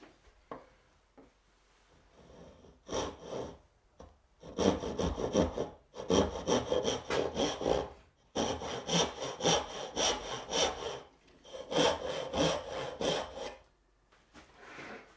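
Hand saw cutting wood for dovetail joints, with steady back-and-forth strokes in several bursts of rasping, a few short pauses between runs, close and loud.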